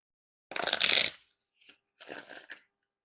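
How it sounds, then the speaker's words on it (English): A riffle shuffle of Bicycle playing cards: a loud, fluttering burst of rapid card snaps, then a short tap and a second, softer riffle, close to the mic. "time for the riffle shuffle or bridge shuffle."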